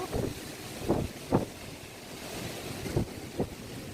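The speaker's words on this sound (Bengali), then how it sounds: "জোরে হাওয়া দিচ্ছে বাবা। আকাশটা মেঘ করে এসেছে, এক্ষুনি বৃষ্টি আসবে।" Strong gusty wind before a rainstorm rushes across the microphone as a steady roar, with several louder buffeting bursts breaking through.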